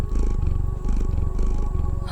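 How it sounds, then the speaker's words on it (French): A cat purring close up, a steady rhythmic low rumble pulsing with each breath in and out, continuous and fairly loud with no talking. "et qui ronronne."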